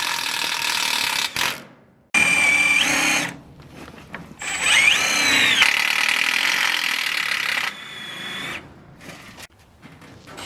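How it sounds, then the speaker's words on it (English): A power drill drives self-tapping screws through plywood strips into a steel structural member around a garage door opening, with loud whining bursts of varying pitch separated by short pauses, close by, with no talk. "Since the structural member is steel, we must use self-tapping screws."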